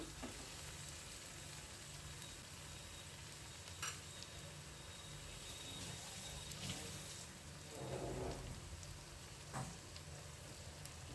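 Fish curry with mashed tomato frying and being stirred in a pan, a steady soft sizzle running throughout with occasional scraping stirs and a louder burst near the end.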